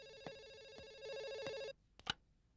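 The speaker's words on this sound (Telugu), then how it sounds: "ఫోన్ మోగుతోంది" An indoor telephone rings several times in a steady repeating pattern of bright electronic rings, then falls quiet. Two short clicks follow, like the handset being picked up.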